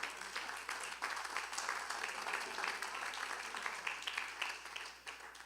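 Steady congregation applause at a worship service fills the space, a dense wash of many hands clapping continuously without talk.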